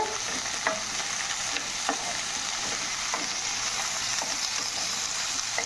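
Green chilies and coriander fry in hot oil, a constant close crackling sizzle with faint intermittent stirring taps throughout.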